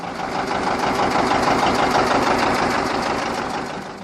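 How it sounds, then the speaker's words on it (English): A John Deere 730 Diesel tractor engine runs steadily and loudly nearby, with a rapid, even chugging pulse and no pauses or talk. "The John Deere 730 Diesel."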